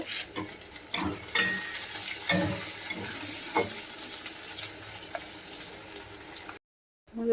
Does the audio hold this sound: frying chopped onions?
yes